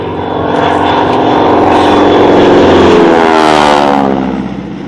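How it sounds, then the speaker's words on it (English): The engine of a large model aircraft at a Rufforth model flying event drones steadily nearby, swelling in pitch and volume before easing off, with no talk over it. "listen to this engine now."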